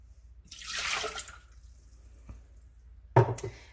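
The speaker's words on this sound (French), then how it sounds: "on va commencer par mettre les 270 g d'eau" Water, 270 g of it, pours into a Thermomix TM6 bowl in a short rushing splash of about a second, followed by a quiet pause and a brief clatter near the end.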